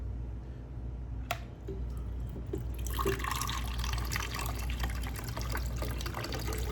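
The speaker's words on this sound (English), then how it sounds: "I'm going to put a little bit of chicken broth." Chicken broth poured into a blender, a steady liquid splashing and trickling that swells after a brief start, heard close over a constant low background hum.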